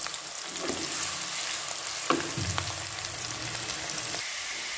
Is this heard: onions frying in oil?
yes